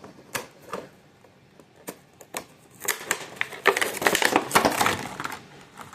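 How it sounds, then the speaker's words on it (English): Cardboard box and plastic packaging of a 2024 Spin Master Monster Jam 1:64 scale Monster Mutt Dalmatian toy truck being opened, scattered close clicks and taps building into a dense burst of crinkling and tearing. "let's go ahead and open this."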